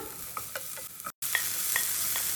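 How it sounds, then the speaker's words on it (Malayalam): Chopped carrot, green chilli and ginger stirred in a hot frying pan: a close, bright sizzle with quick spatula scrapes and taps, briefly cut by a moment of silence before the frying resumes. "ഒന്ന് മിക്സ് ചെയ്തെടുക്കാം"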